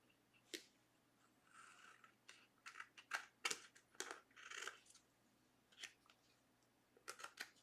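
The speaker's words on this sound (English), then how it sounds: "Come in with a little scissors." Small scissors trimming paper card during handmade card assembly: scattered sharp snips and light papery rustles at an uneven pace, close and quiet, with no talking.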